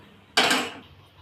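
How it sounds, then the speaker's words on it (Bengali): A wok set down on a gas stove, one short metallic clunk with a quick scrape that fades within half a second against a quiet kitchen. "কড়াইটা বসিয়ে দিলাম।"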